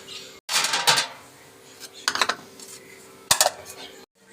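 New ceramic plates clink and clatter as they are handled, in three short bursts of bright knocks and rattles separated by quiet pauses, close to the listener.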